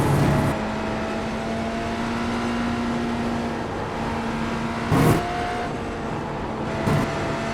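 A Porsche race car in iRacing endurance racing gives a steady, droning engine whine that runs for several seconds, broken by a few brief louder bursts, with no talk.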